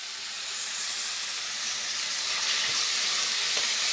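Onion, mint leaves and dried red chillies frying in oil for a chutney, a dense, steady hissing sizzle that swells slightly louder toward the end, close and with no voices.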